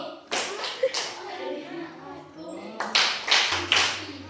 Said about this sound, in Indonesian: Kita ice breaking dimulai yaitu tepuk konsentrasi 1, 2, 3.